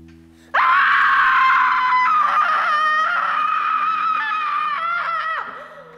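A woman screams loudly and continuously for about five seconds in a dramatic fiction scene, a sustained piercing cry with wavering pitch that cuts off abruptly, no talking over it.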